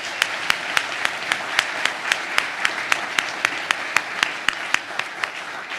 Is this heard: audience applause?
yes